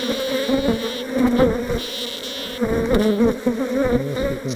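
Honey bees buzzing around an open hive during queen marking, a loud steady droning swarm close by with shifting pitch as insects pass, no talk.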